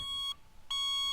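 Two sharp, high electronic beeps from a 1976 Honda CB550F motorcycle's turn signal sound close up, separated by a brief pause, a steady repeating signal tone.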